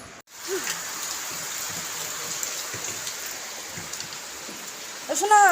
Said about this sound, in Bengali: খুবই বৃষ্টি হচ্ছে, বৃষ্টিটা না থামলে বেরোতে পারছি না